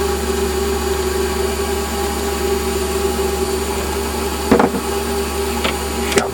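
A metal lathe facing the end of a part, a steady close motor whine and hum with a couple of sharp clicks near the end.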